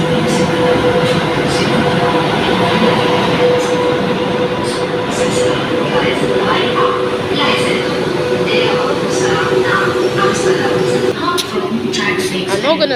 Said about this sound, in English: these double-decker trains look like the Voyager's Class 221, 220 and the Meridian 222